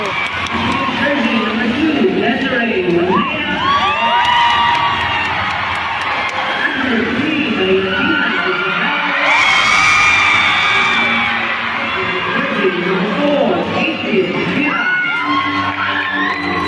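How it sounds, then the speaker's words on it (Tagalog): A volleyball arena crowd screams, whoops and cheers in loud sustained waves as Titans players' names are announced at a PVL match between Choco Mucho and Petrogazz, with the roar rising to a peak midway and a nearby voice occasionally shouting. "Pakinggan nyo guys kung gaano titilian yung yung Titans. Pag tinawag yung mga pangalan nila."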